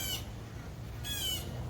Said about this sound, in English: That's a Jay